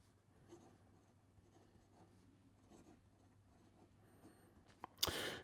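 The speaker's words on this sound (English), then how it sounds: "that was me writing here, or not actually getting the nib on the paper" Montegrappa fountain pen nib scratching lightly across paper in soft, intermittent strokes, very quiet and close, ending with a sudden louder handling noise.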